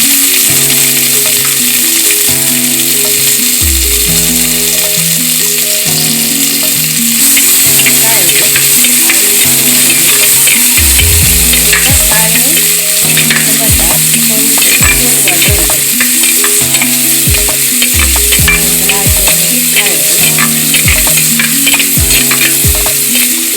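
Onion and coconut sizzling loudly in coconut oil for a tempering, a steady dense fry with repeated scrapes and clinks of a spoon stirring through the pan.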